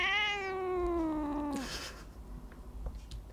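A single cat meows once, up close and clear, in a long, drawn-out call that slides downward before trailing off into soft rustling background noise.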